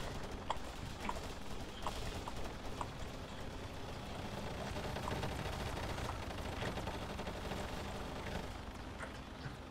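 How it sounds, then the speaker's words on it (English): Faint, distant gunfire from the military shooter Arma 3, scattered sharp shots and short bursts crackling at long range over a low background hum. "But now the blue team is returning fire"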